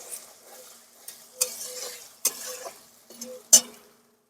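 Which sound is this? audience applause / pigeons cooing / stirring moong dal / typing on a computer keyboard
stirring moong dal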